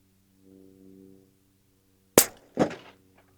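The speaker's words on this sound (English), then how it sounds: "Just send one shot into my target, make sure my zero is good on this." A rifle fires a single shot at a target while its zero is checked: one sharp, loud crack, then a second strong report about half a second later, after a quiet low hum.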